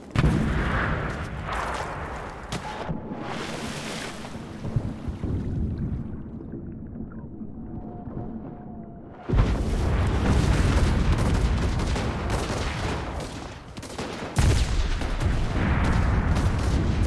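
Artillery barrage in the shooter game Enlisted during a sea battle event. Heavy booms and rumbling blasts roll almost continuously, with a brief quieter lull midway.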